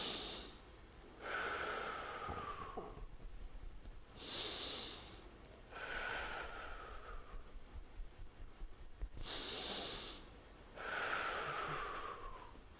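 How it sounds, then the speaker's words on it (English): Slow, deep breaths during an abdominal bracing exercise for chronic low back pain: four long breathy inhale-exhale cycles, close and steady, with a faint whistling tone on some breaths and no talking. "breathe down deep."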